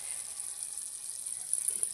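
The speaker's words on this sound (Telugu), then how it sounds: "అంతలోపు టమాటా కడిగేసి పెట్టుకుందాం." Tap water runs steadily into a sink while tomatoes are washed, a continuous close hiss with faint splashes and no talking.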